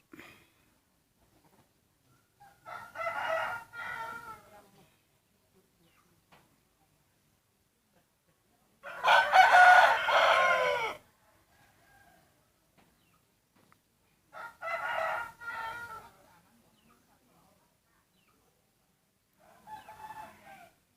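Chickens and roosters on a small Thai farm: several loud crows spaced a few seconds apart, with faint clucking in the quiet gaps and no talking.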